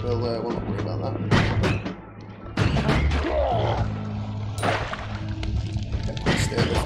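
Gunshots in the pixel-art roguelike Noita, several sharp thuds and cracks spread irregularly across the span, close and fairly loud against a steady low hum, with crackling fire between hits.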